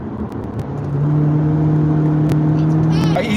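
A Chevrolet Camaro's 335-horsepower V6 engine revs up and accelerates nearby, a steady droning pitch holding loud and close for a few seconds.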